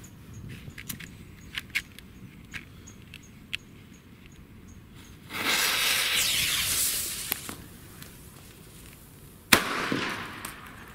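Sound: Weco firecrackers (Kanonenschläge) exploding

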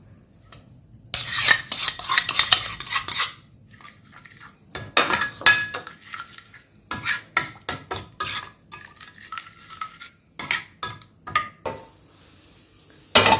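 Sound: stirring a tadka mixture with cutlery

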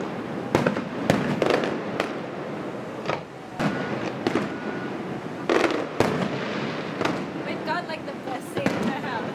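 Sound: fireworks exploding over Honolulu

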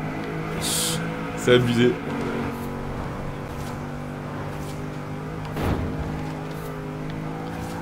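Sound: Honda Civic RS engine accelerating in video game Forza Horizon 4

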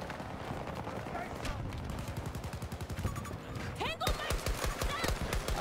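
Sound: AK rifle gunfire in video game

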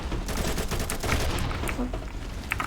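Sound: dual AK rifles firing in video game Combat Master

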